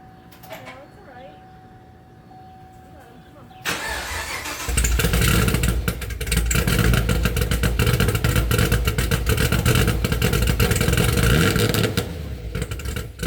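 A built Chevrolet ZL1 Camaro making over 600 horsepower cranks and fires up with a sudden roar, then settles into a loud, rough, throbbing idle with revs, close by, following a quiet stretch of faint background noise.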